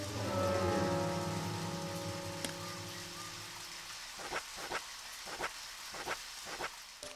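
Rain in the Deadly Premonition game patters steadily on surfaces, first under a low droning hum that fades, then alone with several sharp bursts of heavier drops or crackles.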